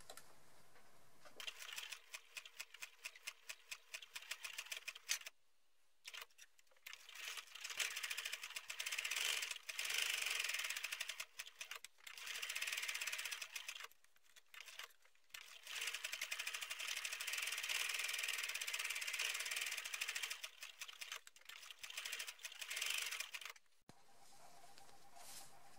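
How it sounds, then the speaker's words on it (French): Domestic sewing machine topstitching all around the edge of a small fabric bookmark made from scraps, running in steady rapid bursts with short pauses between stitching runs, close and fairly quiet, with no talk. "de manière à fermer tout cela à la machine. On va effectuer une surpiqûre tout autour."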